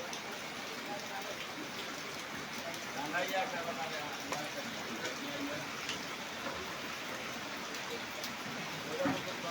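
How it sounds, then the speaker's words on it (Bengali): Light morning drizzle patters steadily over a market street with shuttered shops, a soft continuous hiss of fine rain with faint scattered drips, distant and even throughout. "বৃষ্টি হইতেছে সকালবেলায়, এই যে গুড়া গুড়া বৃষ্টি হইতেছে"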